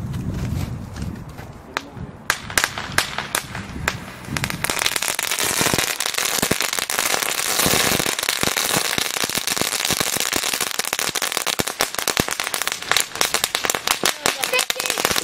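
Firecrackers and fireworks go off outdoors in rapid, crackling strings of sharp bangs that build into a dense, loud barrage lasting most of the stretch, with voices briefly heard near the start.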